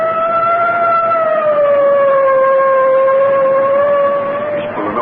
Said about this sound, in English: I guess it's time to sound the siren.